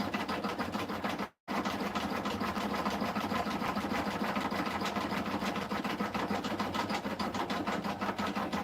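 An embroidery machine stitching a peppermint candy design runs with a fast, steady mechanical chatter and hum, broken by one brief pause near the start.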